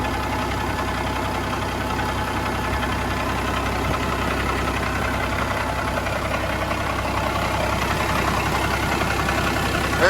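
A large truck engine idling steadily and smoothly, a low continuous rumble with a faint knocking texture, close by with no talk.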